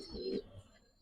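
A Pakistani homer pigeon gives a short, soft, low coo, faint and close, then quiet room noise fills the rest of the moment.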